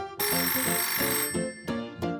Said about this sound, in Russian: Звонки отвлекают вас от работы, мешают вам.